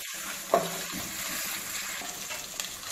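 Crushed cardamom, ginger, garlic, green chili and curry leaves sizzle in hot oil while being stir-fried, giving a steady close frying hiss with a couple of brief stirring knocks and no speech.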